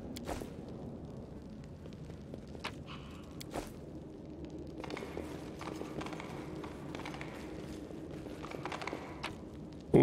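Horse hooves clop along in the fantasy role-playing game Pathfinder: Wrath of the Righteous, a quiet, uneven run of footfalls over a low game backdrop with a few sharper thuds.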